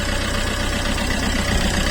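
A Fiat Panda's 1.3-litre Multijet diesel engine idles steadily right after starting, a loud, close, continuous rumble with an even low knocking pulse and no talking.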